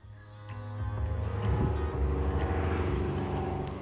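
Local propeller airplanes fly overhead near a historic desert camp in Arizona, a steady droning engine hum that swells gradually as the aircraft pass, heard alone without talk.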